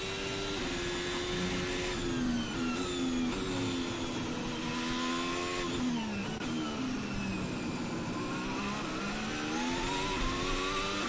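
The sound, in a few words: Formula 1 car downshifting and accelerating, French Grand Prix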